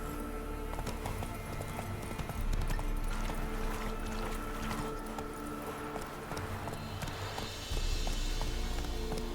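Hooves pound in a steady galloping rhythm over a dense bed of game music and ambient noise, constant and fairly loud throughout, from a horse in The Witcher 3: Wild Hunt on Xbox Series X.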